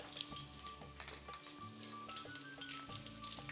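Roughly sliced onions cooking slowly in a pan for coconut curry, a quiet steady sizzle with light crackle, faint and close, with a low background hum and no talk.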